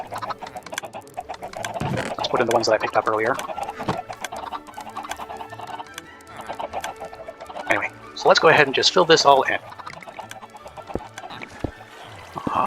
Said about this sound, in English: Still some more chickens, it sounds like.